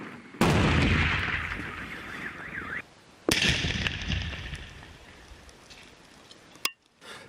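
An 80mm mortar shell is blown up in a controlled detonation, heard from a safe distance as two sudden loud blasts a few seconds apart, each followed by a long rumbling, fading roar.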